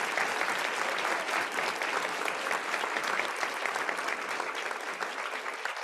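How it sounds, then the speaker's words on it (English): An audience at a book talk for Taylor Jenkins Reid's novel 'Carrie Soto is Back' gives a steady, dense round of applause lasting several seconds, with no voices over it. "If you could give a round of applause,"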